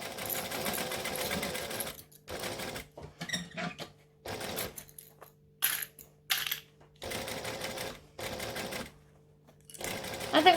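A sewing machine stitches a bowler bag in repeated runs of rapid needle chatter, some slower bursts over thick layers, with pauses and a faint background hum between runs.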